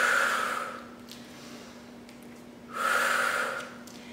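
Two strong, breathy exhales during a cardio band workout, each a long rushing burst of air close to the listener, separated by a quiet pause, no talk.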